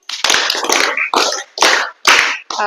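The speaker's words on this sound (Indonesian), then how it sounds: "yuk kita tepuk tangan 5 kali" A class of students claps hands together in about five loud, dense bursts separated by short pauses, close and energetic, with no talking.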